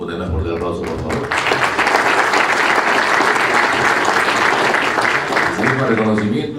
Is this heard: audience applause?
yes